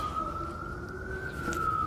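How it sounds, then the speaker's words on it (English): A siren wails steadily in the distance over low traffic rumble, its tone rising slightly and holding without pause. "Yeah, the sirens."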